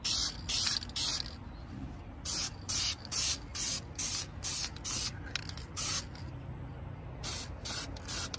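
Repeated bursts of aerosol clear coat sprayed onto gloss red hand-painted brake calipers on a 2020 Honda Accord, short hissing blasts separated by brief pauses over a low background rumble, close and fairly loud.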